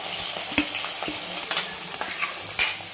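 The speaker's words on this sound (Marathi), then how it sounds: "शिमला मिरची टाकते आणि गाजर पण टाकून घेते. आणि छान आपल्याला ह्याला फ्राय करून घ्यायचं" Capsicum and carrot hiss and crackle in hot oil with cumin, with sharp spatula scrapes and clacks breaking the constant close sizzle at an irregular pace; no voices.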